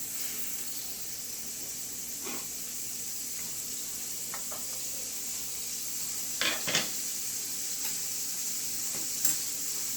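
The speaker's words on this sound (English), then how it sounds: "I'm going to go ahead and drop a half a stick of butter in there" Half a stick of butter melting in a hot pan with olive oil while red snapper is steamed, a steady soft sizzle and hiss with a few light clinks of a utensil against the pan.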